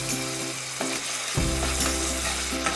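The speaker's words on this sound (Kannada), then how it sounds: "ಈಗ ಟೊಮ್ಯಾಟೊ ಎಲ್ಲ ಚೆನ್ನಾಗಿ ಸಾಫ್ಟ್ ಆಗೋವರೆಗೂ ಫ್ರೈ ಮಾಡ್ಕೊಳ್ಳಿ." Chopped tomato and onion fry in oil in a pan for a ridge gourd gravy, with a steady close sizzle and periodic scraping stir strokes and no talking.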